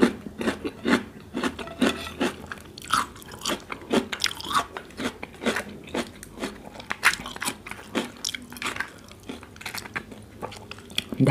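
Close-up crunchy chewing and biting of pickled egg-laden crab with dipping sauce, with repeated cracks, slurps and wet mastication in an irregular rhythm, no talking.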